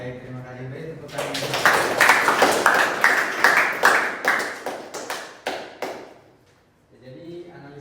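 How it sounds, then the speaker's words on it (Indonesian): A small group in a university teaching session claps for a team's presentation: a few seconds of sharp, uneven hand claps that build and then taper off, with people talking before and after. "Beri tepuk tangan."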